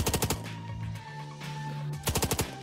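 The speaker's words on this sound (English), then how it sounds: "So I'll take shots at his head now." Rapid bursts of automatic gunfire ring out in the video game Long Gone Days, one quick volley at the start and another near the end, with a droning synth background between them.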